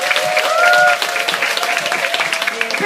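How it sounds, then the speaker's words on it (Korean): An audience claps steadily for a few seconds, dense and close, with a voice briefly audible over the applause. "한 번 더 큰 박수 부탁드리겠습니다"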